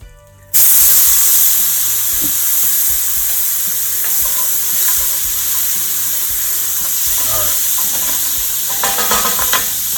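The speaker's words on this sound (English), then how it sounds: "I'm going to put just a little bit of chicken stock in here first because I want to get all these drippings and all this off of the bottom" Chicken stock hits a hot pan of drippings left from frying chicken, bursting into a loud, steady sizzle and steamy hiss that holds close for the whole stretch, with faint stirring scrapes near the end.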